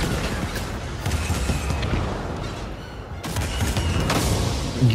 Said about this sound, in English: You guys see that explosion though?